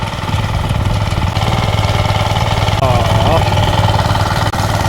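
A farm tractor engine idles loud and steady at close range with a constant low rumble, and a brief higher warbling tone briefly rises above it partway through.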